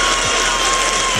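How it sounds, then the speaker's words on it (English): Applause from people gathered at the moon landing event, a steady, dense wash of clapping with a faint tonal hum running beneath, brief and continuous. "People are applauding."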